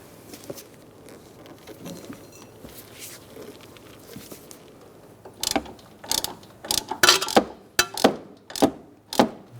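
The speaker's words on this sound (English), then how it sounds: "Torque your sway bar link nut to 37 foot-pounds" Ratcheting wrench snugging a front sway bar link nut on a 2012-2019 Fiat 500, a run of sharp clicking pulls in the second half, close and clear after a stretch of faint shop noise.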